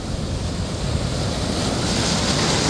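Sea waves crash near Jopok Waterfall on Yeongdo Island in a continuous, loud roar of surf mixed with wind buffeting the microphone.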